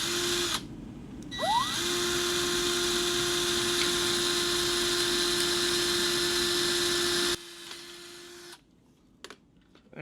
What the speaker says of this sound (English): Got the homeowner special Ryobi doing the work right here next to the existing LED holes.